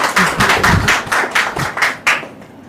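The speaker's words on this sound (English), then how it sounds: "give yourself a round of applause for coming out here today and looking wonderful" A small audience applauds at a postpartum brand launch, a short burst of irregular hand claps and taps that swells briefly and then thins out, with a final clap before it fades.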